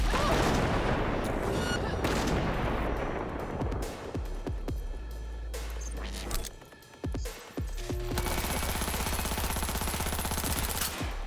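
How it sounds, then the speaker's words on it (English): Sustained automatic gunfire and heavy shots in Cyberpunk 2077, loud and close, running almost continuously with a brief lull partway through, over a dense in-game background of impacts and ambience. "Heard shots."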